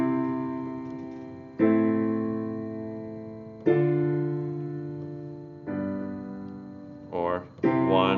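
A piano plays a jazz-era 1-6-2-5 chord progression as four separate chords, each struck firmly and left to ring and fade, with a brief voice starting at the very end.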